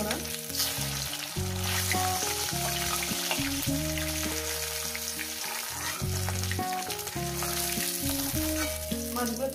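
Nylon tikka fish frying in hot oil, a steady, dense sizzle and crackle up close, continuous throughout with background music playing over it and no talking.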